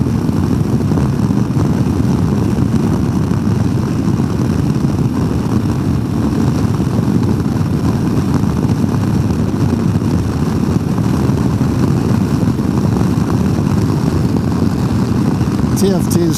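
A Royal Enfield Himalayan 450 motorcycle engine on a test ride drones loudly and continuously, close and wind-blown, with no distinct gear changes standing out.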